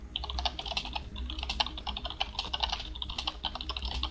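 Fingers clatter quickly on a computer keyboard, close and fairly quiet, in irregular bursts of keystrokes with no voices.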